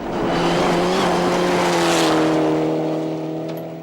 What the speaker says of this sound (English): to climb the leaderboard was to push the Evo 8 even harder